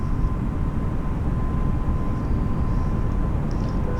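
An Airbus A320 taking off with its landing gear retracting, a loud, steady broadband roar of engine and airflow noise inside the aircraft holding without a break from start to finish.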